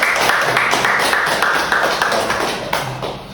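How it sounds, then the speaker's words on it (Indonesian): Small group clapping for a podcast guest in a studio setting, a dense run of quick hand claps held at steady loudness for about three seconds, close to the microphone with no talking over it. "Boleh kita tepuk dulu?"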